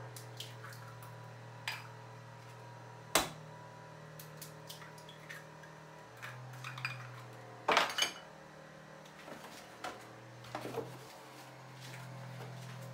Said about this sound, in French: You need to mix all the ingredients good.